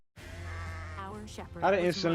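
A sheep bleats close and loud in one wavering call, followed by a brighter, shakier second bleat, with no other sounds around it.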